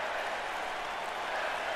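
Broad roaring crowd cheering and applause inside an arena in the wrestling video game WWE 2K19, a steady dense wall of noise with no breaks across the short stretch.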